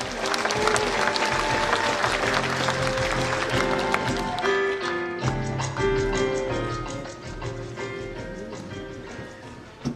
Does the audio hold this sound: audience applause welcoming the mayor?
yes